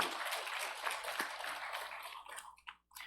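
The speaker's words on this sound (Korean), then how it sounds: "이 시간은 찬양을 받으신 하나님께 영광의 박수" A church congregation claps for God's glory during a Sunday communion service, a soft, dense, steady applause that thins out and breaks off near the end.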